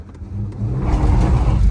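A 1949 Studebaker Champion pulls away hard from a standstill, its engine rising from a low idle into a loud, steady roar that builds and holds as the car accelerates close by.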